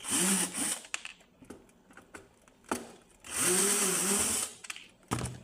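Cordless screwdriver whining in two sustained bursts while backing screws out of an oil-free electric air fryer during repair, with clicks and handling knocks between runs, close and fairly loud.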